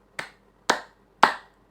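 Three crisp, sharp claps in an even rhythm in a classroom counting game, each a single close, isolated hit with a quick decay and quiet in between.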